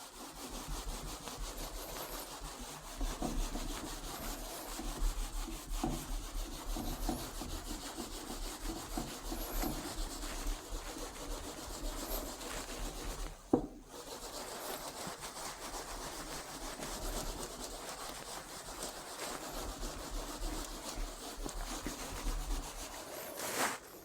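Rubbing notes off a classroom board during a physics lesson: a continuous dry scraping and wiping that runs steadily, close and fairly loud, with one brief knock partway through and no talking.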